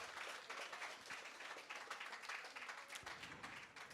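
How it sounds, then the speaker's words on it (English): Audience applauding at a 5th grade moving-up ceremony at Merrick Academy, a steady crowd of clapping hands filling the hall for about four seconds without pause. "Let's give them a hand clap for the work they have done for our group of students"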